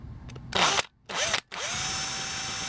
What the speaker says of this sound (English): We're going to drill it out.